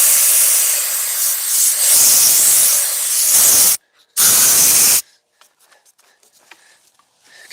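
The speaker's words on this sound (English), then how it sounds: "I could get it pretty good with the air." Compressed air blasting oil off a Honda engine block during an oil change: loud hissing bursts for several seconds, a brief pause, another short blast, then quiet clicks and small handling noises.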